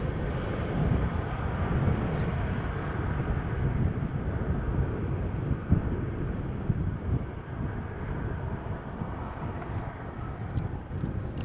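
An airliner arriving to land at Amsterdam Schiphol Airport in showery weather gives a steady, broad jet roar with wind noise, holding loud and even throughout.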